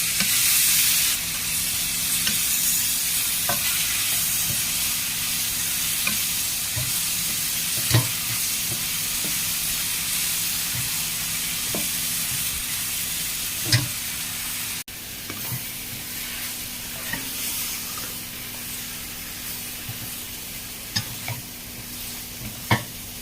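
Patola with dried prawns and egg frying in a pan, giving a steady close sizzle with occasional stirring clinks and scrapes, no talking.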